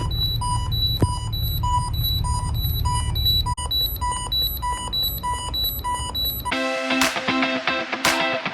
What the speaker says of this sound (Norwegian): Det gikk en alarm her